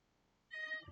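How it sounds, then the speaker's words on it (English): A pet cat named Prince meows once in the background, a short, clear harmonic cry rising out of near silence, followed by a faint low rustle. "I don't know if you can hear Prince meowing in the background."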